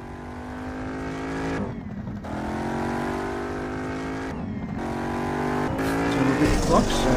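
Jaguar F-Type in the racing game Need For Speed No Limits, with a steady loud engine drone rising and falling through gear changes and a drift, with brief tire squeal near the end.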